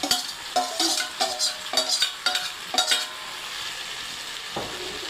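Pasta stirred with chili powder in a pan, with a series of close, rhythmic scraping and clinking strokes of a utensil against the pan, then a quieter pause with faint sizzling.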